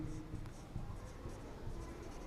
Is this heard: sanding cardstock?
no